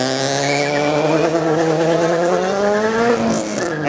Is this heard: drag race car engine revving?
yes